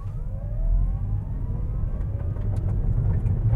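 A 2020 Toyota Prius Prime pulls away in electric mode, a faint rising electric-motor whine sitting over steady low road and cabin rumble.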